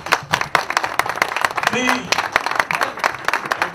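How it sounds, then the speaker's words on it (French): Audience clapping for Teddy Obanza at a fan club launch event in Mawata, Pointe-Noire, with rapid crisp claps running throughout beneath someone talking over them. "On peut applaudir pour lui."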